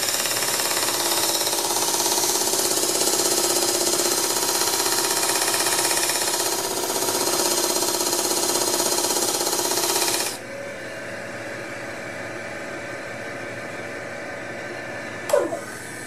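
A belt sander runs with a steady, loud motor whine and abrasive hiss while grinding a western hand plane blade. Partway through, it drops to a quieter whir, and a brief scrape comes near the end.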